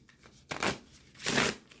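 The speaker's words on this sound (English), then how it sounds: "We'll see how it shuffles." A tarot card deck with full-bleed printing shuffled by hand in two quick bursts, a crisp riffling flutter each time separated by a short pause, close and fairly quiet.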